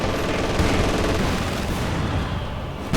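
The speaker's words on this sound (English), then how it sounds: "That was definitely quite an explosion." Battlefield explosions and gunfire in a Company of Heroes 2 multiplayer match, a dense continuous barrage of booming blasts and rattling shots for three seconds, ending in a sudden louder burst.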